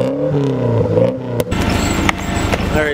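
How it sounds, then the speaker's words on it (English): A Nissan S14 revs hard for a burnout, engine harmonics climbing then dropping before a loud burst of broadband tire-and-exhaust roar takes over, close and sustained with sharp transient pops. "we want a burnout right now"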